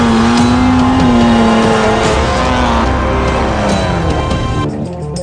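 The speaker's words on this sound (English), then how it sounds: "American Spec Toyota Hilux racing in SA." An American-spec Toyota Hilux race truck at the Gauteng 250 off-road race in South Africa, a loud close engine roar with rising and falling pitch as it passes, fading at the end.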